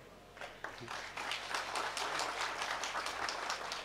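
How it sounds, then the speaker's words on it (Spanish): A crowd at a fundraising dinner for a Reformist Social Christian Party candidate breaks into applause that swells from a few claps into sustained, dense clapping from many hands, with no speech over it. "Que se siente ese aplauso, hombre,"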